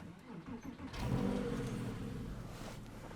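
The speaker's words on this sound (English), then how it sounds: "Wait for the engine to start like it did." A Porsche 997.1 Carrera S engine cranks briefly, catches at about one second, and settles into a steady, rumbling idle close by.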